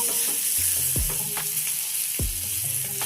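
Fish frying in a small amount of oil, a continuous bright sizzle with a couple of sharp scraping clicks from a utensil moving the pieces.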